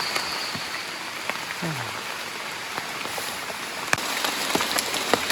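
Rain falling in the countryside during a storm while mushrooms are picked, a soft, steady hiss with scattered close drips and taps, and a faint voice briefly underneath.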